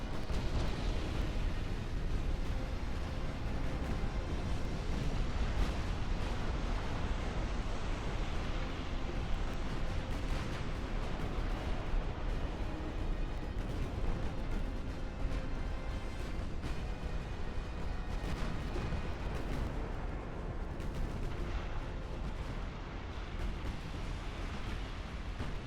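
Naval guns fire in the Ultimate Admiral Dreadnoughts video game, a dense, continuous rumble of booming salvos and explosions over sea noise, loud and unbroken throughout.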